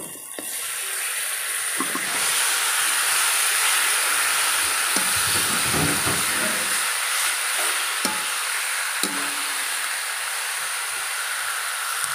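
Pork dropped into a hot pot with salt, bursting into a loud, steady hiss of sizzling that holds for the whole stretch, with faint clinks of utensils and no talking.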